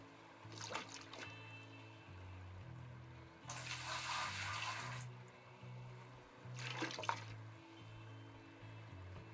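Water sloshing and splashing as gold is washed in the mining video game Gold Rush, two broad bursts of rushing water rising over steady low machine drone and music, fairly quiet, no talk.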